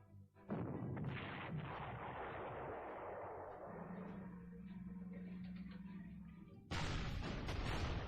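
Anti-aircraft gunfire in the strategy game Panzer Corps, a long heavy rumbling barrage with a steady droning tone mid-way, ending in a sharp loud burst of blasts.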